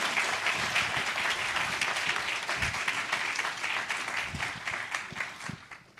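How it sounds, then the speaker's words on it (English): An audience applauds during a souvenir presentation at the Shaw Prize Lecture in Life Science and Medicine, with steady, moderately distant clapping that fades slightly at the close. "A round of applause."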